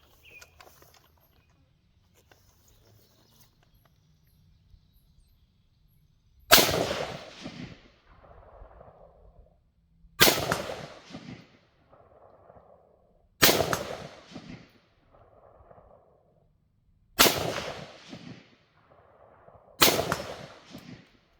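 Five loud, sharp rifle shots from a Sig Sauer Sig556 fired offhand at about 100 yards through a low-hanging tree, spaced a few seconds apart outdoors, each with a ringing decay after a quiet opening.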